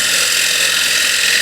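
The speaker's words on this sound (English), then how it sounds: "so I can, with the spindle gouge, just trim it a little bit" A spindle gouge trims the edge of a walnut or cherry plate on a lathe, giving a steady, loud, continuous scraping hiss with a faint mechanical hum underneath, unbroken and close.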